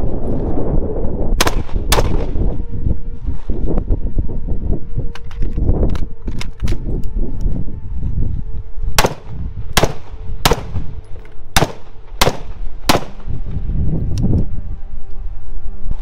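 Handgun shots fired during a shoot-and-move firearm drill with a reload behind concealment, a few scattered cracks early and then a rapid string of about eight loud, close reports, over constant outdoor noise.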